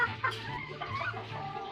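A young laying hen of a brown-egg breed clucks softly and continuously nearby, low murmuring calls over a steady background hum.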